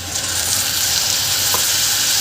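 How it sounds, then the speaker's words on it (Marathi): Ground masala water poured into a pot of pigeon pea rice that was just fried, giving a steady, loud sizzling hiss throughout with no talk. "इथे मी हे वाटणाचं पाणी घालत आहे"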